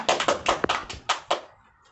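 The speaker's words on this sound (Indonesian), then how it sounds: "tepuk tangan dulu" A classroom of pupils claps hands together in a brief ragged burst of about seven loud, close claps that quickly taper off into quiet.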